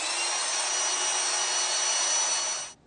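A 550 RPM electric motor with a trigger lock turns the wheel of a motorized scaffold, a steady close whirring drone that holds for under three seconds and then cuts off, no speech.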